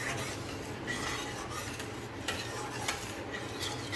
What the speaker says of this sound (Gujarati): બધી મલાઈ મિક્સ કરી લઈશું અંદર.